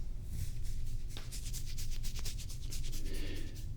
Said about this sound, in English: This time, I'm gonna put on the glove of crinkles.